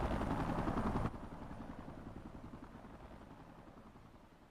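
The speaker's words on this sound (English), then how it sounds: "am I crazy to think that it would only be a matter of time before the chopper blades collide with each other?" The chopper blades of a helicopter in Xenoblade Chronicles X make a rapid, steady thudding pulse; it is loud at first, then drops in level after a second and keeps going.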